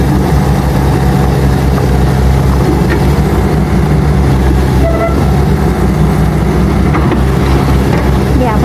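A backhoe excavator reverses up onto a ten-wheel truck, its heavy diesel engine droning loud and steady throughout with low rumbling and faint mechanical clanks.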